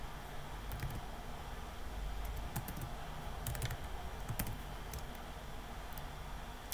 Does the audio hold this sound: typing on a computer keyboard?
yes